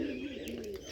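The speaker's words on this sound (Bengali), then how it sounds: "কবুতরগুলো কোপের উপরে ওইটা কি সুন্দরভাবে ডাকাডাকি করতেছে" Pigeons on a coop, including Bombay pigeons, make a short, soft, low cooing, fairly near and faint, with a faint rustle at the end.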